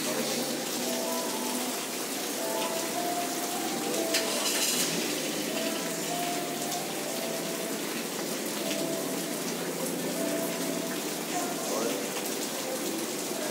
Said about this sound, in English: the rain came down and caused us to come underneath the shed, underneath the washout